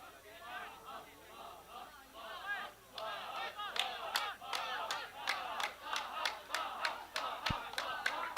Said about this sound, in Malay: sudah mula kedengaran sorakan daripada penyokong untuk kedua-dua pasukan